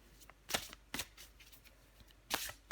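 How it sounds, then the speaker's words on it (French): A deck of tarot cards being shuffled and cut, with a few quiet, crisp riffling bursts spaced apart and soft card handling in between. "Je vais encore tirer une carte pour vous"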